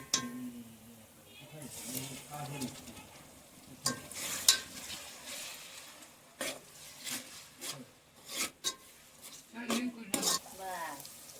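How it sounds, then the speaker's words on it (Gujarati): Onion and tomatoes frying in oil in a home kitchen, a soft sizzle under repeated scraping and stirring strokes of a spoon against the pan, with clinks between. "ડુંગળી કમ્પ્લીટ તેલમાં પાકી ગઈ છે ટમેટા નાખી દઈએ હવે"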